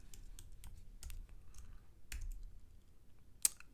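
Fingers typing on a computer keyboard at a command line, giving a quiet, irregular run of close keystroke clicks that ends with one sharper tap.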